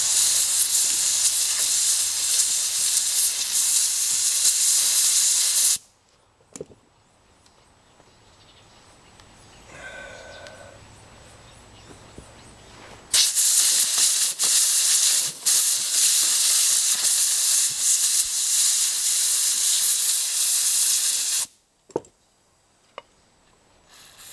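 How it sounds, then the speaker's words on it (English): Compressed air blasts loudly into a Yamaha XS650 motorcycle clutch in two long hissing bursts of several seconds each, separated by quiet with faint clinks, ending with short puffs. "take some compressed air and blow this thing out"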